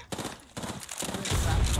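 Rapid Apex Legends gunfire rattles in short bursts separated by brief pauses, then gives way to a heavier rumbling blast toward the end.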